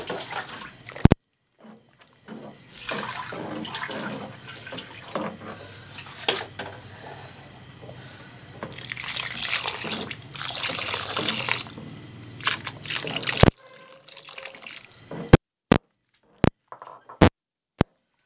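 Water runs and splashes into a cooking pot of lomi for several seconds, then stops, followed by a few sharp clanks and taps of metal.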